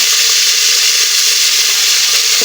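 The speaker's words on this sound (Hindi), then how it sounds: "यहाँ पे हमारा घी गर्म हो चुका है, हम डालेंगे थोड़ा सा चॉप किया हुआ प्याज" Chopped onion hitting hot ghee and frying, a loud, steady, close sizzle that holds evenly throughout with no talking.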